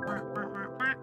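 Duck quacking in the video game Donut County, a few quick nasal quacks in a row, fairly close and clear with nothing else over them.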